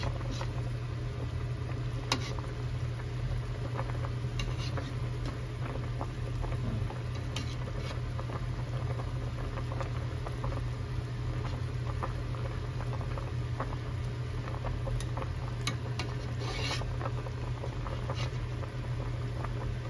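Chicken soup with pepper bubbles at a rolling boil in a pot, a continuous close crackle and patter of bursting bubbles with occasional louder pops, no talking.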